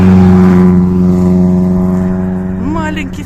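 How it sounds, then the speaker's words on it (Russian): Small Citroen rally car revving loudly as it passes close by at a rally in Aluksne, engine pitch rising and falling over a few seconds, with wind noise and someone speaking over it. "Маленький ситроенчик."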